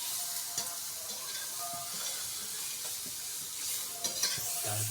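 Carrots sauté with onions in a pan while noodles are being made, with a soft, even sizzle and a few light clicks and scrapes from stirring.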